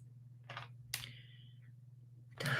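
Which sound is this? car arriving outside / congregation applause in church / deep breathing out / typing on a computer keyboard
typing on a computer keyboard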